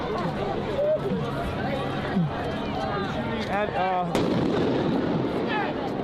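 Tear gas canisters launched at protesters during street unrest in Los Angeles, dull launches and pops thudding amid a dense, loud crowd din with shouting and excited voices throughout.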